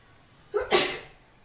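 A single sharp human sneeze, a quick intake followed by a loud, close burst that fades over half a second in an otherwise quiet room.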